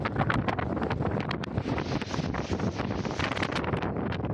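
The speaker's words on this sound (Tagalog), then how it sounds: "Grabe ang lakas ng hangin." Strong seaside wind roars continuously into the microphone near the sea, a loud, steady buffeting rush with gusty surges and no voices.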